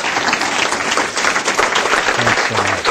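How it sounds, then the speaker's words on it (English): A room full of people applauds Tom, the dense clapping loud and steady throughout the three seconds, with a low voice murmuring briefly under it near the end. "a round of applause."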